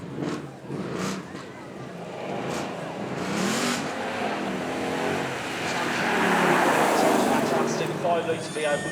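A twin-turbocharged 5-litre V8 car tuned to 900 horsepower revs at a supercar show. Its engine swells in loudness, with people talking over it throughout.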